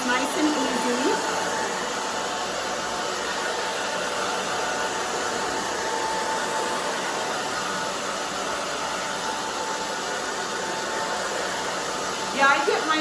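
A handheld hair dryer blows steadily on short pixie-cut hair, a constant whooshing hum that stays close and even, with a brief change in tone near the end.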